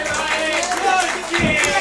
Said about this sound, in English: Everybody clapping for Riot.